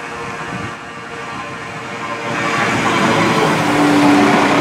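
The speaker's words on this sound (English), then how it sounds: "my train's arriving now, so I'm going to board it and head back to Birmingham Moor Street" A train pulls into Lapworth Station, a broad, steady rumble of wheels and engine that grows louder and closer over a few seconds, with no voices.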